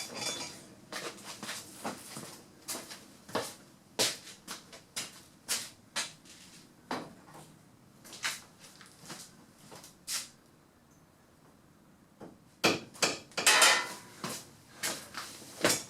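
Small hammer peening a bend out of a Soule sight base for a Winchester 1885 rifle, a series of light metallic taps at an uneven pace, fairly close and moderately quiet.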